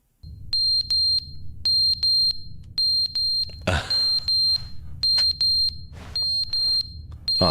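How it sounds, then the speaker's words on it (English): A repeating high-pitched fire alarm beeps in rapid bursts inside the video game The Stanley Parable, loud and close, with a brief burst of noise midway and the pattern resuming after. "Oh, that's a really annoying sound. Is that a fire alarm?"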